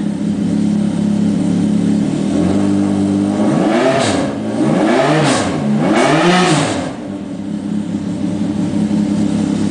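A Yamaha snowmobile engine converted for aircraft use idles smoothly, then revs up in rising and falling surges before settling back to a steady loud drone, close to the microphone with no talk.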